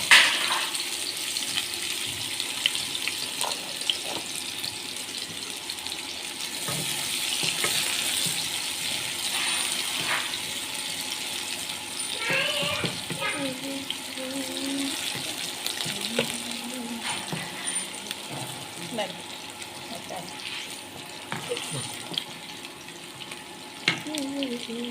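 Chopped onions fry in about four spoons of oil, a steady sizzle running the whole time with faint clinks and scraping as they are stirred, plus a brief run of tap water partway through.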